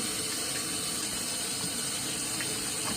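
Running water from a faucet pours steadily into a kitchen sink being cleaned with a little soap, a constant close hiss with no talking.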